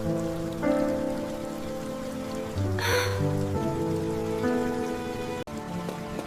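Steady rain falls as a story sound effect, a continuous soft patter heard throughout under a gentle musical backdrop, with no voices.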